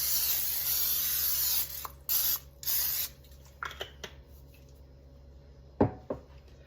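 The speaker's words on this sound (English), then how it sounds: "We're going to spray a baking dish with some non-stick cooking" Short hissing bursts of non-stick cooking spray, a long one then several brief squirts, followed by light clatter and handling of a baking dish.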